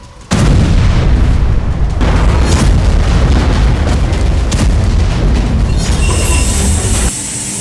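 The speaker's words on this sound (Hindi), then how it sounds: "लेबनान फिलिस्तीन बॉर्डर पर भारी गोलाबारी हो रही है।" Heavy shelling along the Lebanon border: a loud, continuous roaring rumble with heavy low booms that runs unbroken for about seven seconds, then drops to a quieter level.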